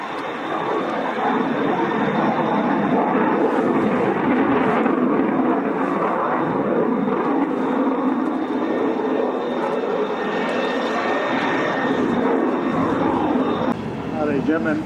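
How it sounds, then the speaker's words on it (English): RAF 25 Squadron Tornado F3 jet fighter starting its takeoff run at an air show, a broad sustained engine roar with a rising whine, heard at a distance and fairly steady throughout. "Willie Hackett in the 25 Squadron F3, just about to put it straight into its paces once he starts his takeoff row."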